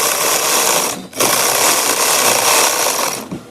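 A sewing machine stitches a seam on a peplum frock in two loud, close bursts separated by a short pause near the one-second mark, with a faint knock near the end.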